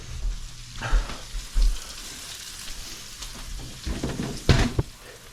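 Steady sizzling of meat frying in a pan, with occasional stirring scrapes and louder bursts of crackle near the end.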